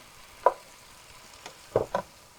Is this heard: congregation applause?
no